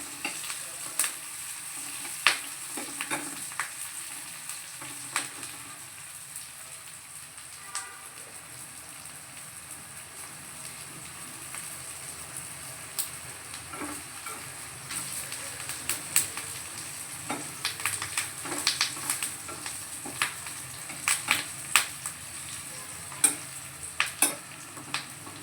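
Onions frying and being stirred in a pan for a tempering, a steady close sizzle with scattered crackles and scraping stirs throughout, no talking.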